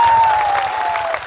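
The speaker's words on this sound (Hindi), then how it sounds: "ताली दीजिए इनको" An audience at a political rally in Tripura bursts into a short burst of dense clapping, loud and close, with a steady tone ringing through it and no speech.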